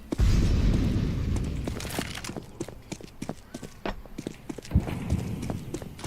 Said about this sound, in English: Eu tô ouvindo passo aqui no meio